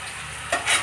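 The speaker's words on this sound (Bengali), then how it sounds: "এখানে এখন আমি জাস্ট মাছটা ভেজে নিয়ে" Fish frying in oil, with a steady sizzle through a short burst that swells in two quick surges near the end, close and fairly loud, with no voices.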